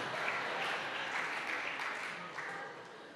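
A church audience claps in a brief burst of applause during a pastor's sermon, a dense patter of many hands that is fairly faint and fades slightly toward the end, with no clear talking over it.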